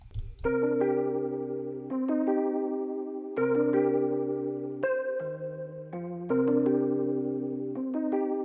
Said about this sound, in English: I used the Wurlitzer 200A vibrato preset